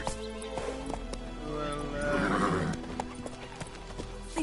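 Geralt's horse Roach in The Witcher video game: hooves clip-clopping in a steady run with a whinny rising in the middle, close and moderately loud, with a voice speaking over it.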